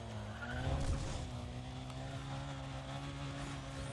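Handbrake tire skid from a car in Need For Speed Undercover, a steady engine drone with a tire squeal swelling near the start, then a sustained loud scrubbing hiss over the rest of the stretch.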